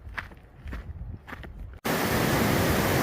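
Footsteps crunch along a Pacific Crest Trail path near Pinchot Pass, then a stream's loud, close rushing flow abruptly fills everything with steady broadband roar.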